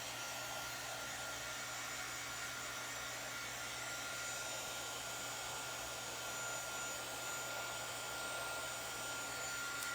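A dryer blows on a chunky wooden heart with a steady, continuous whirring drone that stays even and fairly loud throughout, with no talking.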